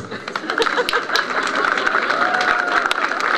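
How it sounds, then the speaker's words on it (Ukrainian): Graduates and guests at a school's first-day ceremony clap loudly for gifts, a dense burst of applause with crowd murmur, close and continuous across the whole moment. "Гучно плескають у долоні, радіючи подарункам, і цьогорічні випускники"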